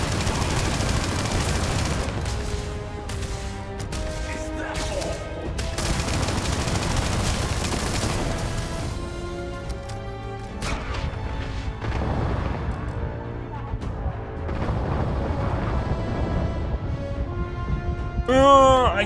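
Gunfire from a weapon in the Starfield video game, steady bursts of shots amid busy game sound and music-like tones across the whole stretch, with a louder flurry near the end.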